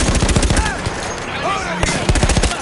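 Machine gun fire in Battlefield 1, loud continuous rapid bursts close by, briefly thinning in the middle before resuming, with faint voices beneath.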